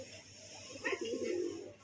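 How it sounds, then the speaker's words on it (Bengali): A sand-powder coloured pigeon coos softly once, a brief low throaty call close by over quiet background hiss. "বালি পাউডার পায়রা, ডিম তাড়িয়ে বেড়াচ্ছে"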